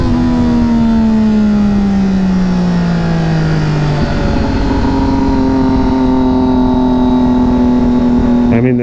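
2006 Triumph Daytona 675 three-cylinder engine pulling hard through the gears, loud and close, pitch climbing then dropping at a shift and climbing again, with a throttle blip near the end.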